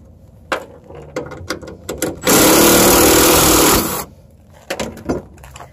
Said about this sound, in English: Next, we're going to remove the two 8mm bolts holding in the taillight.